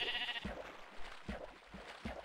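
Minecraft sheep bleat in short repeated calls, several quiet nasal baas spaced irregularly with no talking over them.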